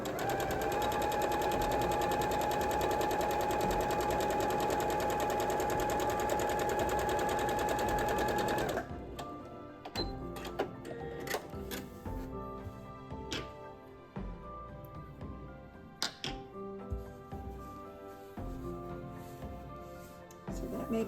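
Sewing machine steadily stitching quilt star point pieces, a loud continuous whir for about nine seconds, then stopping and giving way to soft handling clicks and rustles of fabric.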